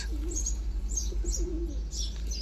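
A domestic pigeon coos in low, soft, rolling phrases, repeated a few times over a steady low hum, with faint higher chirps from other birds nearby and no speech.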